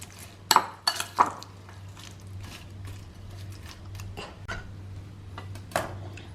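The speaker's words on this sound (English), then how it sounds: "give it a good mix" Bitter gourd salad with onion and green chillies tossed in a bowl, a few sharp clinks of utensil on dish near the start, then soft rustling mixing over a low hum.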